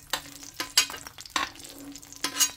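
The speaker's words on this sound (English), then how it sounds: "You can hear the pan sizzling." Mandarin orange chicken sizzles in a hot pan while a utensil stirs and scrapes in short, repeated bursts, close and fairly loud.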